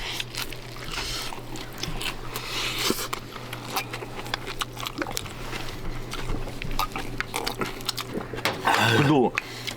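Close chewing and crunching of bibimbap made with homegrown sprout vegetables, soft wet mouth sounds and clicks of a spoon recurring throughout, with people chatting over the eating.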